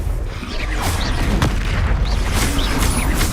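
A Confringo spell explosion in Hogwarts Legacy: booming blasts and crackling bursts land close and loud over a dense rumbling background, with several sharp pops scattered through.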